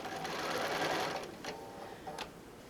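A sewing machine stitches around the shape of a quilt-as-you-go cosmetic bag, a close whirring run of needle strokes that slows, then gives a couple of short bursts with brief pauses between.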